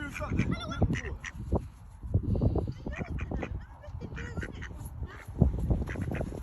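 Several ducks quack and honk nearby in irregular bursts while people talk over them.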